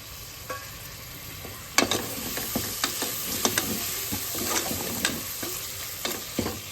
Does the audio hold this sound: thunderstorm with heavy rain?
no